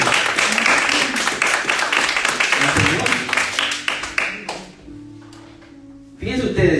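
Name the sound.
audience applause in a church service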